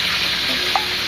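Mustard seeds tempering in hot oil in a pan while bachelors cook at home, a steady close sizzle with a couple of faint pops, brief and without talk.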